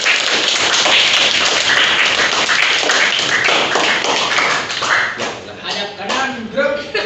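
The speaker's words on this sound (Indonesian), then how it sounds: "Tepuk tangan dong untuk kita semua." Group of junior high students in a studio quiz show clapping together in a quick burst of dense, loud hand claps that gradually thin out into scattered taps and shuffling, with voices mixed in.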